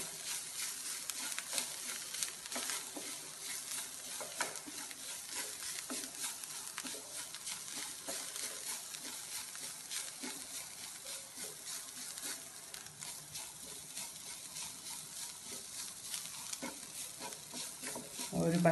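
Spice powders and garam masala sauté in a pan under steady stirring, a soft continuous sizzle with light scraping strokes that stays fairly quiet and even throughout.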